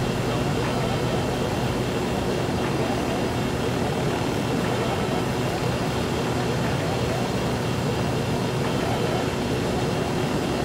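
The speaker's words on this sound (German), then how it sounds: "Der Helikopter macht Geräusche, die nicht vertrauenserweckend sind" Helicopter in the video game Ghost Recon Wildlands, a steady, loud, dense rotor and engine roar that continues without a break, with no speech over it.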